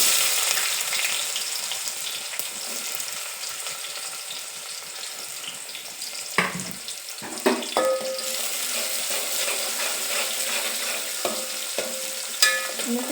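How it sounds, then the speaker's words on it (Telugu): Spices sizzle and crackle in hot oil for a bottle gourd curry, giving a steady frying hiss with a few sharper pops and clinks of utensils near the end. "ఇప్పుడైతే ఆయిల్ హీట్ అయింది, పోపు దినుసులు వేసుకుంటున్నాను."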